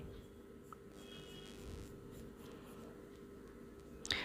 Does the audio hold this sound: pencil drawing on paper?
yes